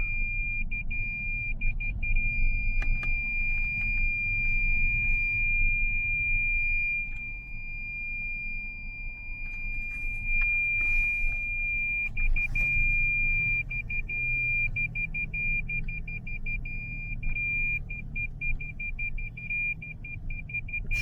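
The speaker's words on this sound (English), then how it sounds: "Parking sensors, radar cruise control. This is all you get on narrow country lanes." A high, steady electronic beeping tone from a car's parking sensors sounds almost continuously, with rapid pulsing bursts, over the low rumble of the car driving down a narrow country lane.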